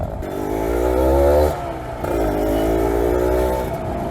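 A Kawasaki RR150 two-stroke motorcycle engine, running cold while its carburetor is being set, revs up and holds steady, dips briefly, then revs again, loud and close with no talk.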